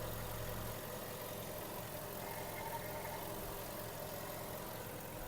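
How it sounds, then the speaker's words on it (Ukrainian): A 2008 Volkswagen Golf 5 with a 1.6 MPI petrol engine idles quietly and evenly, a soft steady hum with no rises or misfires. "Автомобіль працює тихо, рівно, компресія є,"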